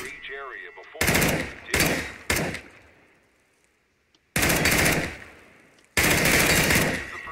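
AK-47 rifle fire in the CS:GO video game, several loud sustained bursts of rapid automatic shots separated by pauses, with a short electronic sound at the start.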